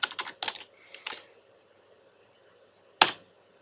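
Fingers tap a computer keyboard in a few quick bursts of clicking keys, close and fairly clear, then a pause and one sharper final keystroke.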